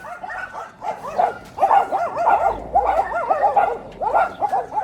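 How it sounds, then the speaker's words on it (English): Several dogs bark and yelp continuously close by in an outdoor yard, a dense, overlapping run of sharp, high-pitched barks and whiny yips with no pauses, loud and unbroken across the whole stretch. "These fucking dogs, man."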